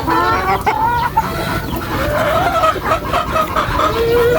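Pet chickens cluck and chatter continuously up close while being fed vitamins, with overlapping calls and a brief crow-like note.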